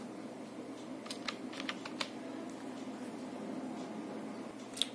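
Short burst of typing on a computer keyboard on a Windows PC, a handful of soft, close key clicks clustered together over a low steady hiss, with no speech.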